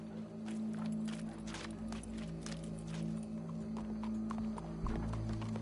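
Horse hooves clip-clop in Red Dead Redemption 2 in an irregular walking rhythm over a steady low in-game ambient drone, moderately close, with no talking.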